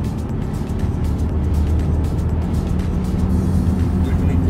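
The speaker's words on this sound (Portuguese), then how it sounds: "Eu vou pôr aqui a 2000, vou pôr em modo manual, que é pelo menos um bocado de caixa, e vou carregar às 2000." Mercedes-Benz CLA 45 AMG in manual mode pulling from 2000 rpm, its turbocharged engine droning loudly and steadily as revs build and the turbo spools, with low rumble throughout and no distinct gear changes.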